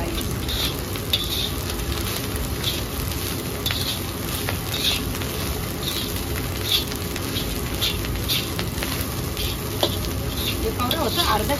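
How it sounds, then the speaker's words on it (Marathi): Cooked cumin rice is stirred in a hot pan, with a steady sizzle and repeated scraping strokes of a spoon, close up and continuous. "आणि आता टाकू त्याच्यात हा राईस तो शिजवून घेतलेला अगोदर"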